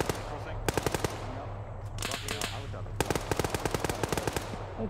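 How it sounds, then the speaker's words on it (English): Light machine gun firing in a video game, loud bursts of rapid automatic shots in several volleys separated by short pauses, over a low steady background hum. "That was a good idea to switch to the LMG"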